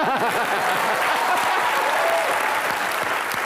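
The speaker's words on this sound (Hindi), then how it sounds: "प्रियंका के लिए जोरदार तालियां" Loud, sustained studio-audience applause on a televised comedy chat show, a thick, even roar of clapping throughout with faint voices mixed underneath.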